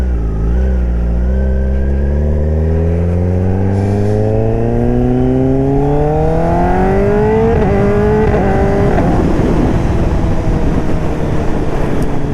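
A 2024 Kawasaki ZX10R fitted with an SC Project exhaust roars loudly as it accelerates, its engine note climbing through the gears in long rising pulls with brief shift breaks, right up close.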